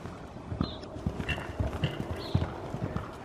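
A horse's hooves clip-clop at a steady walking pace, a series of close, distinct knocks, with a few faint high squeaks mixed in.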